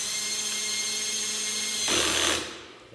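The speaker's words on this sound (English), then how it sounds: "when you hear that clutch activate, that means you're tight" A power drill drives a screw through a pilot hole with a steady motor whine, then the clutch slips near the end and gives a short, rougher burst before the motor winds down. The sound is close and there is no talking.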